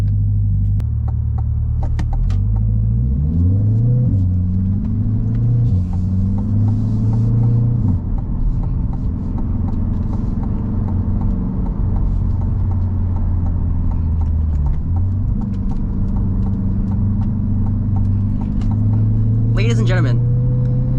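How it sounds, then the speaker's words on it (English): A 2023 Chevrolet C8 Z51 Corvette on the road, its engine a loud, steady low rumble that rises and falls through gear changes, heard from inside the cabin while someone talks over it. "I'll show you what it's like to drive a 2023 C8 Z51 Corvette in the year"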